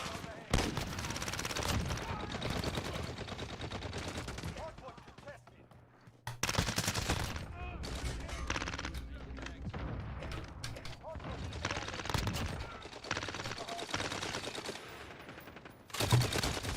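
Dense bursts of automatic gunfire in the video game Modern Warfare, nearly continuous over the whole stretch with a brief lull partway through, loud and busy with overlapping shots.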